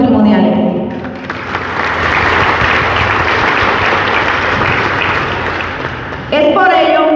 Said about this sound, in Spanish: la licenciada María Isabel Guerra Martínez, para quien le pido un fuerte aplauso